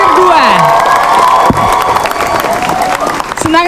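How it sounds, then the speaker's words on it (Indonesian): A studio audience at an Indonesian TV show cheers and applauds loudly in a short burst, whoops and crowd noise blending with tonal sounds, the noise thinning slightly toward the end. "Tepuk tangan sekali lagi dong untuk penghuni terakhir"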